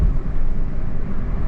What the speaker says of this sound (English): the sound of the cars and stuff coming in.